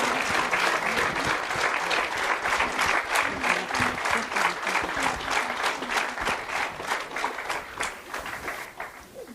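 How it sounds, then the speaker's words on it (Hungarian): Wedding guests applaud at a ceremony, a dense sustained round of clapping from a crowd, steady and close for several seconds before thinning out and tapering toward the end. "Please give them a round of applause for their participation this afternoon."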